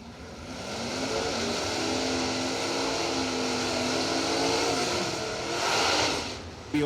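A 477-cubic-inch all-Oldsmobile drag racing car at the World Street Nationals, its engine roaring loud and sustained, pitch climbing steadily and then easing off as it passes.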